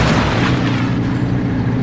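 Nissan GT-R exhaust cracking with backfire pops: a loud, continuous broadband burst of rumble and crackle from close range, with no talk.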